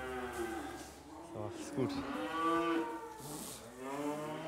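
Dairy cows on a farm moo in long, drawn-out calls that overlap one another at moderate distance, while a person briefly talks among them.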